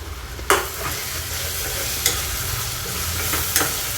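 Onion with ginger-garlic paste fries in a pan for chicken kheema, a steady close sizzle broken by three sharp stirring scrapes spaced about a second and a half apart.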